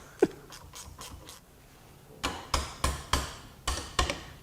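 A ratchet turns a Gearwrench Bolt Biter extraction socket on a bolt, giving a run of sharp clicking strokes in two bursts, close and fairly quiet, with no voices.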